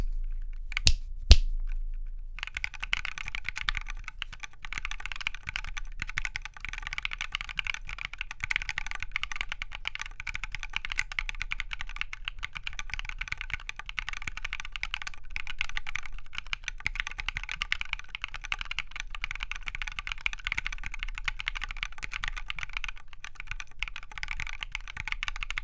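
Rapid, steady typing on a high-profile Planck V6 keyboard fitted with Silk Black switches, crisp clustered keystrokes heard up close and alone, opening with a few louder isolated clacks.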